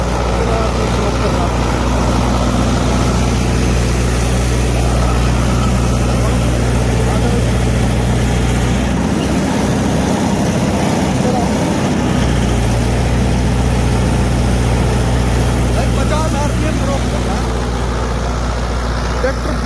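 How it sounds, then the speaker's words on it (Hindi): A tractor engine idles loudly and steadily throughout, a constant low rumble that dips briefly midway, with talking over it. "बिल्कुल फ्री चल रहा ट्रैक्टर"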